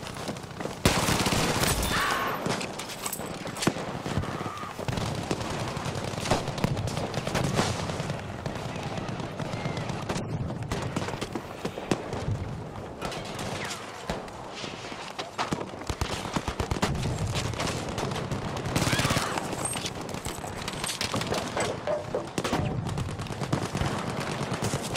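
Battlefield V gameplay full of dense, continuous gunfire, with rapid automatic bursts and sharp shots cracking one after another throughout, loud and close, with occasional voice chat underneath.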